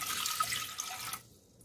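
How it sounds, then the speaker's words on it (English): Two cups of water pour into a cooking pot on a home stove, a steady rushing splash that runs loud and close for just over a second, then cuts off into quiet room hiss. "First, we're gonna put the water. Okay. This is 2 cups of water."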